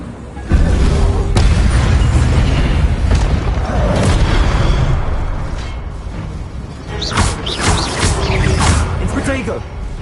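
Incendio fire spell cast in the video game Hogwarts Legacy, a loud sustained whooshing roar of flame with booming bursts, running continuously for several seconds amid busy battle effects.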